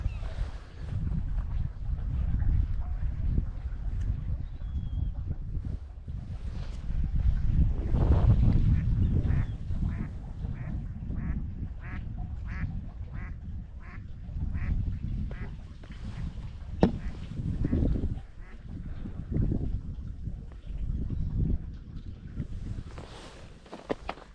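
Seagulls on an icy winter shore of the Bay of Fundy near Lubec call again and again over a low rumble of wind and water. The bursts of cries come loudest in the middle stretch, with no talking.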